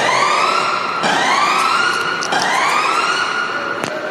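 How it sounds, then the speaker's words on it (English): A loud wailing siren rises and falls in repeated sweeping cycles, close and continuous, with other sirens layered over a steady roar, at a mall in Canada in lockdown after a shooting. "Sirens going off there."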